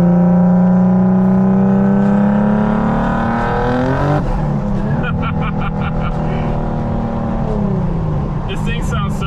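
High-horsepower car of about 800 horsepower with side-exit exhaust doing a burnout, its engine holding a loud steady high-rev drone that drops sharply partway through, then settles into a rougher idle with crackling pops, close and continuous.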